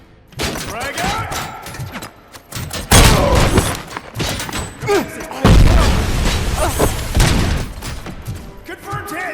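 A grenade explodes amid heavy gunfire in the RoboCop Rogue City video game, with booming blasts and thuds layered over rapid shots, loud and chaotic, and a voice calls out over the combat.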